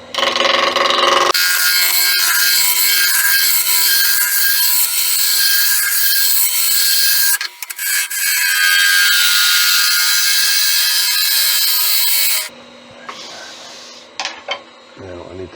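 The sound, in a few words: wood turning on a lathe, rounding off a handle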